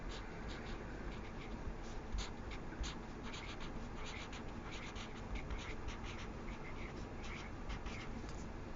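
A pencil scratches across paper as a name is written, producing close, continuous strokes in quick, uneven bursts with no talking.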